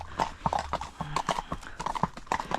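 Horse hooves clip-clop on a hard road in a quick, uneven rhythm of sharp knocks close by, with faint voices or a whinny now and then.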